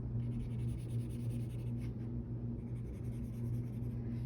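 A pen scratches steadily across paper, coloring in a shape: a continuous soft, close scratching with no talk over it.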